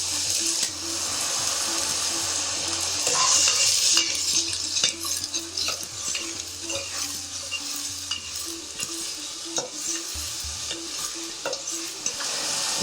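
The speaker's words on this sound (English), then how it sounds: "So gently fry the onions." Onions and garlic fry gently in vegetable oil in a pan, a soft steady sizzle broken by frequent scraping and tapping stirring strokes, close up, with a low voice faintly present at times.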